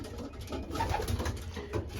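Racing pigeons coo in a loft, soft rolling throaty calls repeating close by and fairly loud, several birds overlapping without pause.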